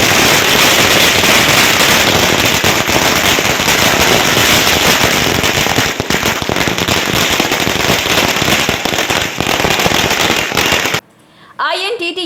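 Firecrackers burst in a dense, nonstop crackling barrage at an election victory celebration in Asansol. The rapid pops stay loud and close, then drop away abruptly near the end.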